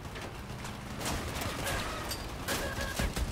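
AC62 Therm autocannon firing in the video game Crossout, a muffled stream of rapid gunfire bursts under game engine and combat noise, moderately loud throughout.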